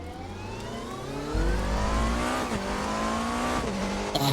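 A race car in the RaceRoom racing game, with its engine revving up through rising pitch sweeps and gearshift dips, plus tire squeal, all loud and close with no speech.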